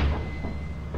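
A door in the video game Lethal Company slides open with a single short mechanical clunk over a low, steady background hum.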